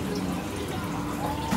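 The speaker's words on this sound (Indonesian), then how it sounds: "itu kan air ada netes dikit-dikit, dia ganti air sendiri" Water drips and trickles steadily into a discus fish aquarium alongside its filter circulation, a continuous close splashing wash with no break.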